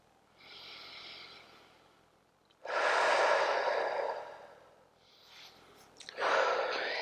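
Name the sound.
steady yoga breathing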